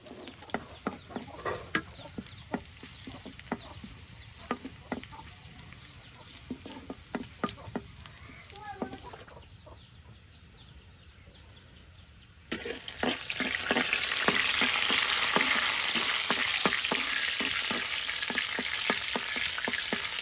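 Stalk greens (data shak) cooking in a pan on a village hearth, with close scraping and tapping of a spatula stirring them over a low sizzle, which then turns into a loud, steady frying hiss.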